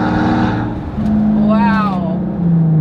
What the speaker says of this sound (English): what you really feel is the sound from the engine